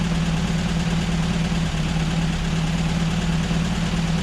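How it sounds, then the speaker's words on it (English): A steady four-cylinder Volkswagen Baja engine idles with an even, low rumble and a smooth, regular pulse, continuous and fairly close throughout. "You can hear all four cylinders are running okay."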